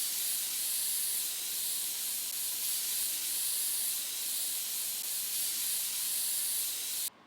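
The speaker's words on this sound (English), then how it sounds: "So I'm trying to spray some more air into it in case I missed a component or something." Compressed air sprays into a dusty desktop computer in a long, steady close hiss that runs almost unbroken for several seconds before cutting off abruptly at the end.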